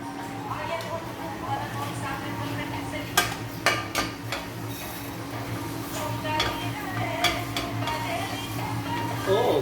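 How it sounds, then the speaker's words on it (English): Masalas roasting in a pan for an Awadhi mutton dish, stirred with a utensil that scrapes and clinks against the metal in bursts over a soft sizzle, with a person talking throughout. "And now we are ready to roast the masalas"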